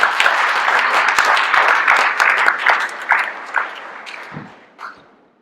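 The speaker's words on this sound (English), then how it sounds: "So let's give Chris a round of applause." A room full of people gives a round of applause for Chris at a Rotary change-of-gavel ceremony: dense, sustained clapping that thins and fades out toward the end.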